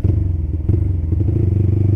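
A motorcycle fitted with a cheap Creampie aftermarket exhaust revs loudly and close by, its deep engine rumble surging and rising in short pulses over two seconds.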